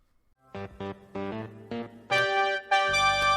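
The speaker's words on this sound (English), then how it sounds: "the robot's voice boxes are exactly a flattened fifth out of tune" Harsh, buzzy electronic voices sing a short tune in clashing harmony, the phrases getting louder and more distorted toward the end.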